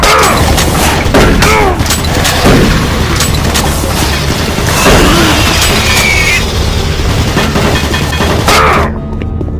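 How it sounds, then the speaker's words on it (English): In the game Doom 3, automated turret guns fire in a loud, dense barrage of booming shots and bursts that layer over one another almost continuously before cutting off abruptly at the end. "Warning, automated turret guns online."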